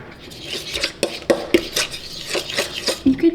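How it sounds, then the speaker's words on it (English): A fork whisks pancake batter in a bowl, making quick irregular clinks and scrapes against the dish. The sound is close and fairly loud, with no talking. "I will just mix it with a fork"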